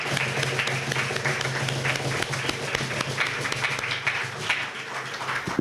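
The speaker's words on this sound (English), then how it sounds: "let's clap them up, people" Audience applause at a live writers' stage event, a dense and steady wash of many hands clapping that carries through the whole stretch at an even, fairly loud level.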